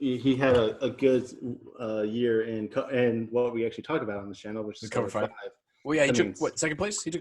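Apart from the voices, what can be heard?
No distinct noise like a dog, phone or traffic.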